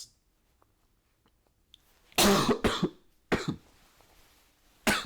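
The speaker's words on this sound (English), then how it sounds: "sorry, I have a cough and it's been staying there for a while" Several sharp coughs burst out close to the mic after a quiet stretch, three or four separate hacks with short pauses between them.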